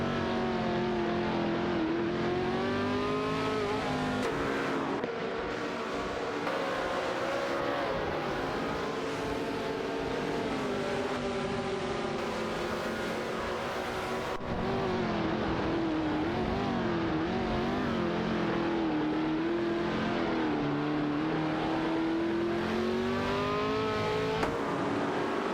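Race car engines, an Eagle Mk5 and a McLaren 10A in a racing game, drone and whine steadily at high revs, pitch sweeping up and down through gear changes and throttle shifts for the whole stretch, with no talking.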